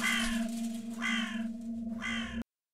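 Crows caw three times in slow succession, harsh and loud, in the horror video game Embuscade over a steady low droning ambience, then the sound cuts off abruptly.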